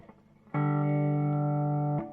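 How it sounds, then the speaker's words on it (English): A single sustained, buzzy distorted guitar note from a Burman Pro 501 1x12 hand-wired combo amplifier rings out loudly for about a second and a half, then cuts off. "Let's have a look at the old distortion"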